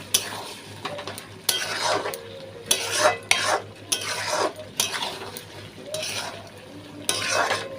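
Potatoes for aloo dum stir-fried with a little ghee in a pan, rhythmic bursts of spatula scraping and clattering over a low sizzle, repeating roughly every second, close and fairly loud.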